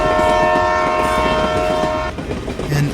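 A train approaches on railway tracks, its horn sounding a long steady blast over the loud rumble and rattle of the cars, with the rolling noise growing rougher near the end.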